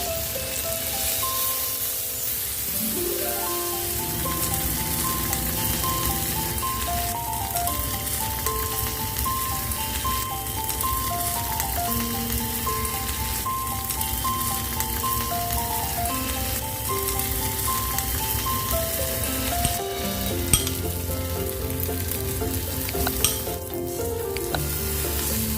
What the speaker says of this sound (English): Now fry the second batch the same way.